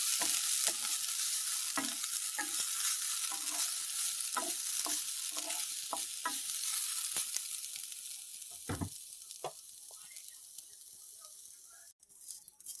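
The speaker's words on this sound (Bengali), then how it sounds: "নারকেলটা একটু ভেজে নিই ভালো করে।" Grated coconut frying in a pan before water lilies are added, a close, dry sizzle with regular scraping and stirring taps of a spatula that thin out and quiet toward the end.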